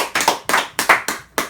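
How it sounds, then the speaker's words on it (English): Six or seven sharp, separate hand claps ring out at an even pace, close and quick, forming a short round of applause. "A round of applause."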